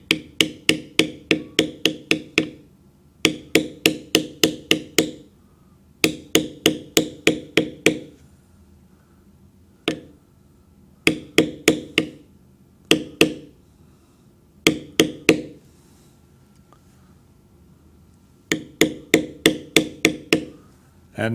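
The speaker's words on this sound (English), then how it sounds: "I will stamp a little deeper" A mallet strikes a leather stamping tool in quick bursts of sharp wooden taps, five to seven blows per group with short pauses between, close and crisp, as a dragon design is carved and stamped into leather.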